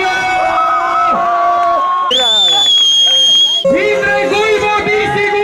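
Crowd cheering and whooping at an Estonian BMX and scooter competition awards, loud and sustained, with musical tones and whistles running through it.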